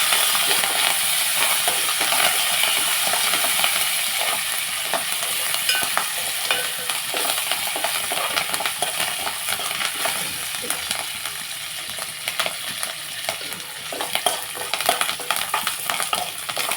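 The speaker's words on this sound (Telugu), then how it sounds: "కరివేపాకు కూడా మనం వేపించుకొని" Curry leaves fry in hot oil in a pan, giving a loud, continuous sizzle and crackle with some stirring scrapes, steady throughout with no voices.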